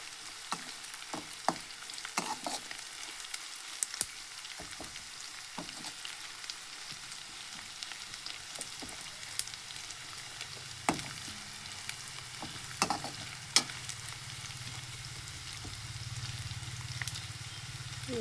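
Mustard seeds and cumin sizzle in hot oil, a soft, steady frying hiss scattered with sharp little pops and crackles as seeds burst, close and continuous throughout.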